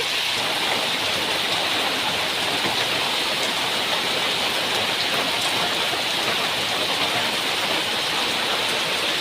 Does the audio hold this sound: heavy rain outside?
yes